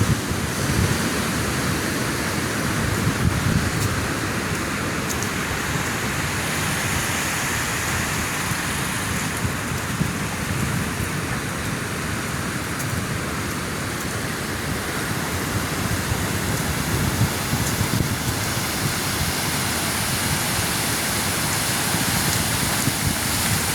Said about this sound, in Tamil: இப்போ நிலைமையை பார்க்க வந்து மழை வந்து இப்போதைக்கு முடியாத போல தான் இருக்குது.